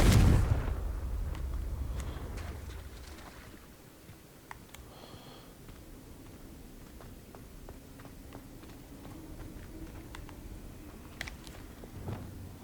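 A Confringo explosion spell goes off in Hogwarts Legacy: a loud, close boom right at the start that rumbles and fades, followed by quieter game ambience with scattered small clicks and thumps.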